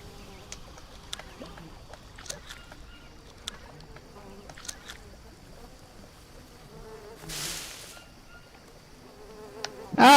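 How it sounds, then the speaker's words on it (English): Flies buzz faintly around a dead animal carcass in the jungle survival game Green Hell, with scattered clicks and a brief rushing noise over a quiet ambient bed, then a louder burst at the end. "Of course, there is buzzing around that dead critter."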